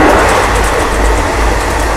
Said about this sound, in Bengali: আর ট্রেন প্রচুর স্পিডে যাচ্ছে